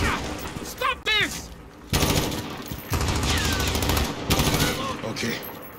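In a video game deathmatch, M4A1 rifle gunfire rattles in rapid automatic bursts, loud and close, separated by short pauses, with other gunfire and a voice mixed in.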